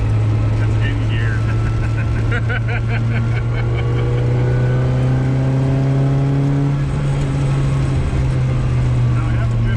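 A 1960 Austin Countryman Mini pulls hard in gear. The small-bore engine drones loudly with a steady, rising pitch that climbs and then drops as it accelerates, with voices faint in the cabin.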